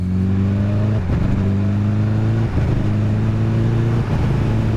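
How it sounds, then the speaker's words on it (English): A sports motorcycle fitted with a Translogic Intellishift quick shifter runs loud and close at low speed, its steady engine drone dipping briefly at each quick gear change, three shifts in a row. "Getting a quick shifter which works across the entire rev range, that is the challenge. Low speed, look."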